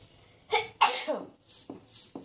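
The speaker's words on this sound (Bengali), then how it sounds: "কাঁচা পেঁয়াজ আর লঙ্কা বাটতে গিয়ে আমার তো কাশি, হাঁচি," A person sneezes, then coughs twice while grinding raw onion and chili, each burst short and close, set against a quiet room.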